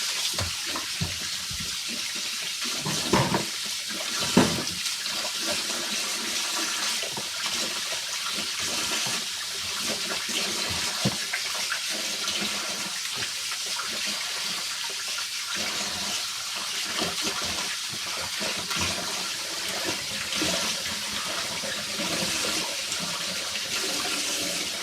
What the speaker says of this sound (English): the first thing I need to do is wash the meat